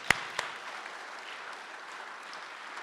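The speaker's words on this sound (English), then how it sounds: "give him a round of applause" Faint, distant audience applause at a Hall of Fame induction ceremony, opening with a couple of crisp nearby claps before settling into a soft, steady patter of many hands.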